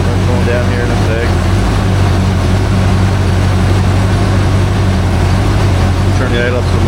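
A rebuilt Ford 289 V8 runs at idle on a homemade engine stand, a steady loud low rumble filling the whole stretch with a constant droning hum.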